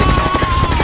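A rapid burst of gunfire rattles loud and close in an action film scene about gangsters shooting at a police car, cutting off abruptly.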